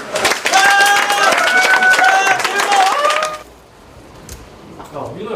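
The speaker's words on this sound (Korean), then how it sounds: "박수!" Soldiers at a Korean combat training center break into a burst of loud applause lasting about three seconds, with whoops and shouts mixed in, then the clapping stops abruptly and quiet room noise remains.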